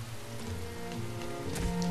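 Rain falls steadily on the road in the Rain video game, a soft, even patter of drops with a few brighter splashes near the end, under a faint low musical hum and no voices.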